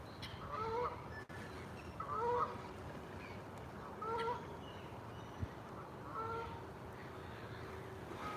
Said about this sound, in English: Just a couple of pairs of geese left, you know, from winter.